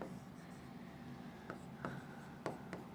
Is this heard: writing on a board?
yes